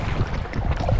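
Buffeting headwind across open water on a Gumotex inflatable kayak trip, a brief rough gust of wind noise with choppy low rumble, close to the microphone.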